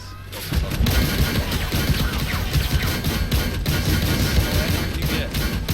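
Rapid autocannon fire from a BMPT-72 Terminator 2 in Armored Warfare, a dense continuous hammering stream of shots emptying a 40-round clip, loud and steady with no pauses.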